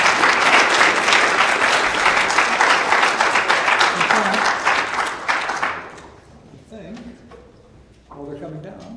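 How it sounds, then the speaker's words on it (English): Loud, dense applause from a large audience at a startup pitch competition, sustained for several seconds before thinning out, with scattered voices and stray claps continuing underneath afterward. "Let's give them a round of applause."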